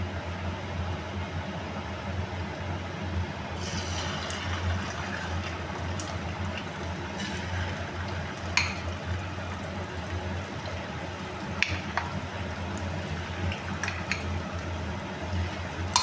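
Chicken pieces deep-frying in hot oil, a continuous bubbling hiss with a few sharp crackles and pops, close and steady with no talking.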